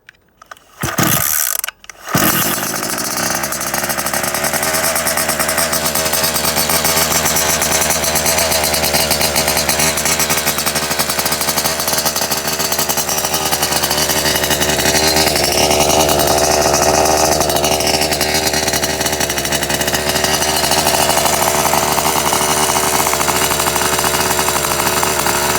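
Rovan XLT 450 gas RC car engine on a heat cycle on pavement, pulling a few times before catching, then running loud and continuously with a rasping two-stroke buzz that rises and falls in pitch as it drives.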